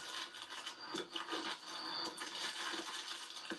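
Fingernails tearing and scratching open a product package, a quiet, close, continuous rasping and rubbing with a few crisp crinkles and scrapes.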